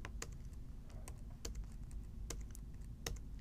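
Someone types on a computer keyboard, with sharp, close key clicks in an irregular rhythm and short pauses between strokes, all with no speech.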